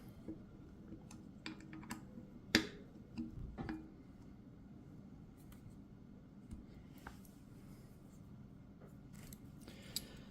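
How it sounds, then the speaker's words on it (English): A torque wrench clicks as bolts are tightened during an e-bike assembly: a few sharp, quiet, isolated clicks spaced irregularly over a soft background hum. "Now we'll torque it down."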